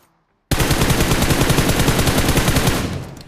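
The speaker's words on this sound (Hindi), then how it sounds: "सामने की साइड से फायर आया।" Loud, close automatic gunfire in a battle royale video game bursts in after a brief silence and rattles on continuously for nearly three seconds before tapering off.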